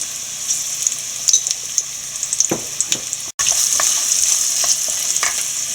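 Bitter gourd and carrot for pickle sizzle steadily in a hot pan, and a spoon stirs them now and then with soft scraping clicks; the frying stays loud and close throughout.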